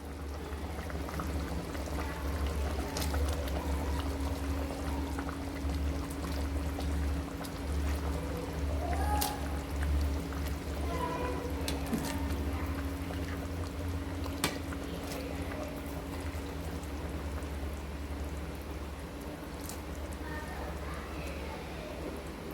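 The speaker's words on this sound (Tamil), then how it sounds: "குழம்பு நல்லா கொதிக்கட்டும்" Country catfish curry at a steady boil in a pot, a constant bubbling simmer with a low hum beneath it, close and even throughout.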